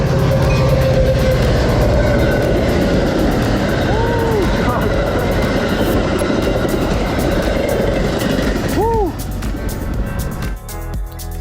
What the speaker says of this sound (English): We hit a train. But I think it's a metro.